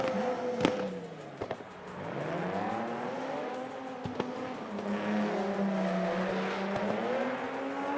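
Nissan 350Z race cars launch off the line at a gymkhana event at Yas Marina Circuit, Abu Dhabi, engines rising through repeated gear pulls, loud and near, with sharp clicks and knocks punctuating the growing roar.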